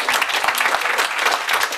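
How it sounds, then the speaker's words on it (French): Brisk, full audience applause closing a panel debate on utopia and progress, many hands clapping densely and evenly across the short span. "On peut vraiment les applaudir parce que nos 4 invités."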